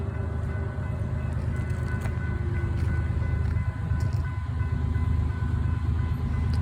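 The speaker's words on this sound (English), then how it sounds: "Looks like it's an auto train." An auto rack freight train rolls past, a loud continuous low rumble and rattle of wagons with faint metallic clicks, no voices.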